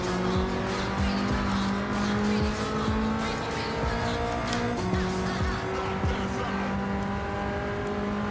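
A race car in Gran Turismo 7 holds a sustained engine note that rises and shifts, while repeated tire squeals and skids cut through at intervals over a busy, continuous mix.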